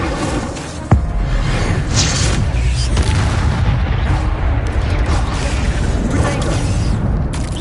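Fire spell cast in the video game Hogwarts Legacy: a sharp burst at the start gives way to a sustained roaring, crackling whoosh that stays loud and dense throughout.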